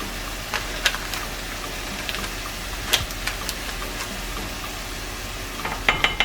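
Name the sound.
mixing Madras curry powder into the pan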